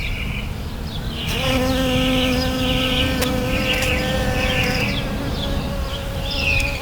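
A bee buzzes steadily close by among garden flowers, a sustained droning hum with shifting pitch that holds for several seconds over faint outdoor background, no talking.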